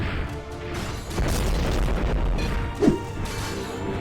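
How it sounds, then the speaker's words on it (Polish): Continuous booming blasts and crashing rumble from combat in the game Epic War 4, dense and loud, with a sharper impact near the end. "Że to wszystko wybucha po prostu ślicznie."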